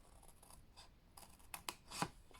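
Scissors snipping through papercraft card for a gift tag box, a few quiet, close cuts spaced unevenly, with the last snip the sharpest.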